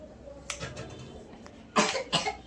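A child with a cold coughs, with a soft short cough early on and then two louder, harsher coughs close together near the end, heard close in a quiet room.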